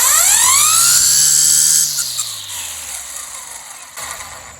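A string trimmer fitted with a Stihl head, a DIY upgrade held on by two 4mm hex screws, runs close and loud with a high, whining engine tone, then winds down and settles to a lower idle.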